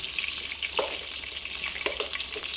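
Whole spices splutter and crackle in hot butter in a pan for a Malaysian egg drop gravy, a steady dense sizzle with a few sharper pops, close and continuous with no talking.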